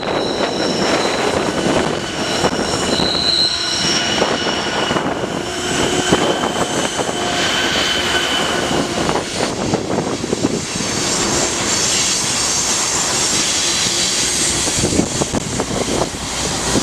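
A westbound freight train passes with an SD70MAC trailing in its consist, a loud, continuous broadband rumble and roar that holds steady throughout, with no voices.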